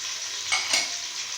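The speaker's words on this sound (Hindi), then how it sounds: "अब हम अदरक लहसुन का पेस्ट डाल लेंगे, साथ ही हरी मिर्च कुटी, लाल मिर्च" Ginger garlic paste and chilies hit hot oil in a pot with golden fried onions for beef pulao, giving a steady close sizzle with a couple of brief stirring scrapes, no voices.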